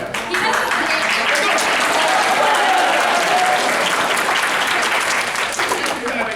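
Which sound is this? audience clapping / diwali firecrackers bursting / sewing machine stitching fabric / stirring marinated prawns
audience clapping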